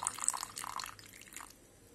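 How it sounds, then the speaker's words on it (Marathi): A little water is poured into cornflour in a bowl for a corn soup: a faint, brief trickle and splash that lasts about a second and then fades. "त्यामध्ये आता मी थोडंसं पाणी टाकून घेत आहे"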